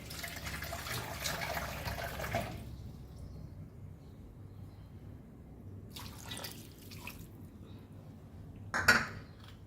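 Water is poured from a cup into a pot of pork curry, a splashy liquid pour at the start, followed by quiet, then brief clinks and a sharper splash near the end.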